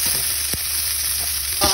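Onion and garlic sauté in a pan for Filipino pork adobo, a close, loud, continuous sizzle broken by a couple of brief stirring scrapes.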